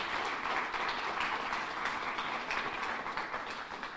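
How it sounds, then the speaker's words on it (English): People at a county budget announcement applaud, producing a steady, moderately loud wash of clapping with no voices over it. "Let's give Bob a round of applause."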